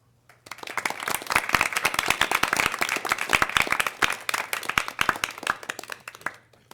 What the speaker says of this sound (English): let's go ahead and maybe give a in-the-room applause round for all